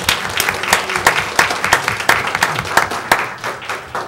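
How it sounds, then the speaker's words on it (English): An audience at a school board meeting gives a round of applause for a student's parents, with dense clapping running steadily for about four seconds and rising and falling in small waves. "Let's give them a round of applause."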